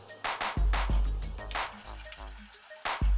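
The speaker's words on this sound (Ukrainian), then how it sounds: "Вливаємо воду." Water poured into a pan of sausage gravy with flour and tomato paste, heard as intermittent splashing and dripping bursts, close and fairly quiet, without talk.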